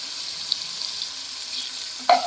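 Green masala paste sizzles gently in oil for a pea rice dish, a soft steady hiss with faint scraping, then a brief louder clatter near the end.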